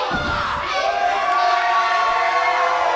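Game crowd cheering in the Super Shogun Wrestling video game, a continuous wash of many voices with shouts rising at the start and holding steady, loud and close.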